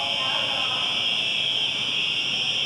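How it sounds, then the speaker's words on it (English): Continuous electronic fire alarm tone inside a prison facility, a loud steady high-pitched buzzing ring sustained throughout without pause. "Okay, this is a fire alarm."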